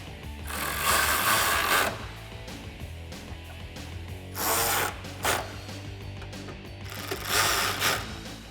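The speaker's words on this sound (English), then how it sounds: "Then I'll just take my 10mm socket and tighten down the hardware." A 10mm socket wrench ratcheting as it tightens headlight mounting hardware on a 2005-2009 Mustang GT, in three quick bursts of close, crisp clicking separated by quiet pauses.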